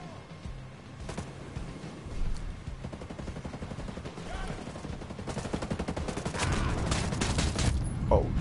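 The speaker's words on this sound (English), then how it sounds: "I'm being shot at." Rapid bursts of video game gunfire from a PS4 shooter crackle close and loud, building toward the end, with a voice briefly talking between shots.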